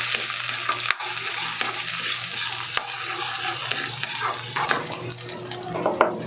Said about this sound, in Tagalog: Antayin natin na mag-brown yung bawang. Tapos maglalagay na tayo ng sibuyas.